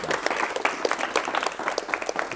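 A TV studio audience applauds steadily to welcome a guest, with many hands clapping in a dense, even patter at moderate volume.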